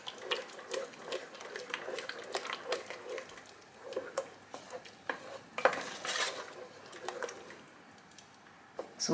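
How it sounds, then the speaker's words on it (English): A spoon stirs a mozzarella cheese sauce for mac and cheese in a pan, giving close, irregular scraping clinks and soft sloppy stirring noises that come and go throughout. "So mix until all the mozzarella is melted and all of the cheese is melted as well"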